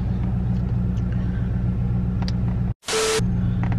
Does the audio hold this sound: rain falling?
no